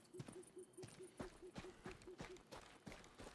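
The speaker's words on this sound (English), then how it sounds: "Do I hear an owl?" Owl hooting in the Deadside survival shooter, a steady run of short, evenly spaced hoots repeating about every third of a second, mid-loud, mixed with sharp footstep-like clicks and no talk.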